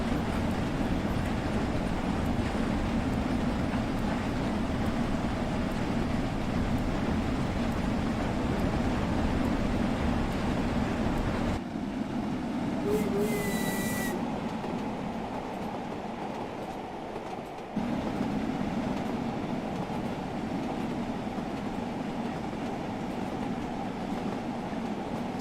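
A diesel locomotive climbs a hill on the Peak Forest line between Chinley, Buxton and Ambergate in Train Sim World 3, giving a continuous heavy rumble and rail noise that dips briefly midway, then returns.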